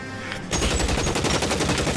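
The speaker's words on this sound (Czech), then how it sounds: "jako začne střílet z toho Thompsona" Rapid automatic fire from a Thompson submachine gun in the video game L.A. Noire, a loud, dense burst of shots that begins abruptly after a brief quieter moment and continues steadily to the end.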